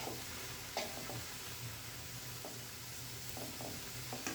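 Mustard greens are stirred and fried with a spatula in hot oil: a steady sizzle runs throughout, broken by occasional scraping spatula strokes.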